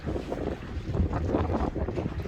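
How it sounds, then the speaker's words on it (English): Strong southeast wind and swell hit a sailboat tied at a dock, a loud continuous rumbling wash of wind buffeting and water sloshing, close and unbroken throughout. "the swell from the strong southeast winds was blowing right at us"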